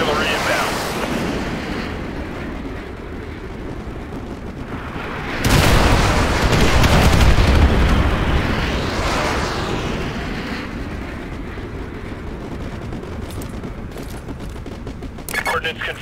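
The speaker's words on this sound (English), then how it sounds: "Fire mission received. Artillery inbound." Artillery strike explosions in Call of Duty Modern Warfare 2, heavy booming blasts swelling over a constant rumbling battlefield din, with radio voices speaking over it.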